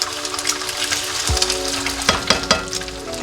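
An egg fries in hot canola oil in a pan, a loud continuous sizzle and crackle close up, broken by a few clanks of a utensil stirring against the pan.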